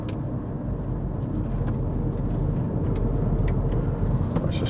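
A car with a 1.9 PD diesel engine pulls up a hill, its steady low rumble and road noise building gently as it climbs, close and continuous with no talk over it.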